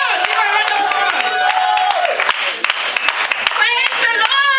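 A church congregation applauding Sister Elizabeth during a service, dense steady clapping close by, mixed with cheering voices and talk.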